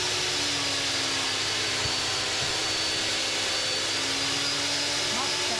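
Lumberjack PT254H helical planer thicknesser running steadily while planing wood, a loud continuous motor whine and cutter roar filling the space close by, with a faint voice beneath the machine noise.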